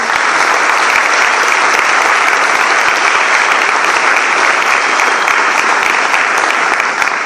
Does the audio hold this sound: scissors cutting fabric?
no